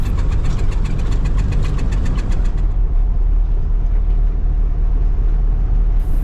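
A car engine idles loud and close on a frosty winter morning in the Carpathian mountains, a steady rough rumble with a rhythmic knock early on, ready to drive off, no voices.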